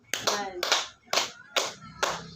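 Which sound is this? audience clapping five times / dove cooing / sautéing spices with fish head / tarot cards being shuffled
audience clapping five times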